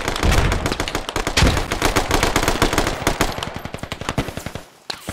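Long bursts of rapid machine-gun fire ring out in a squad-based military shooter game, loud and close, with dense rattling rounds and a brief gap near the end.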